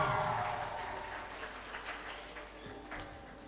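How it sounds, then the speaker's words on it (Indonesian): Audience clapping at a church service celebration, a steady wash of applause that gradually fades over a few seconds with no one speaking. "Oke, tepuk tangannya."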